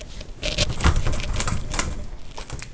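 Grapes shaken inside a bottle for home winemaking, giving a dense run of close, rapid rattling and pattering knocks that continues steadily throughout.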